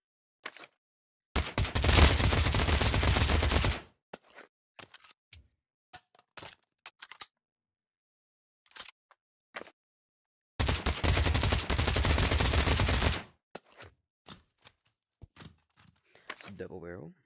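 An Uzi submachine gun with a collapsible stock fires in the Pavlov VR game, with two long sustained bursts of rapid automatic fire. Between them come scattered single clicks and handling knocks, and there is no talk.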